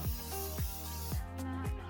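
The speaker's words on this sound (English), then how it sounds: "So I spray with the volume up," Volume-up hair spray hisses from a can in repeated short pumps, four bursts in under two seconds, close and fairly loud.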